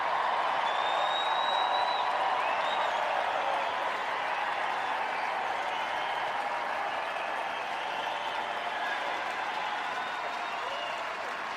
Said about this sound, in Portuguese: Muito aplaudido a dizer isso.